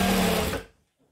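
A home sewing machine stitches a McCall's M7281 dress, running in one steady, close whir for about half a second before stopping abruptly into near silence.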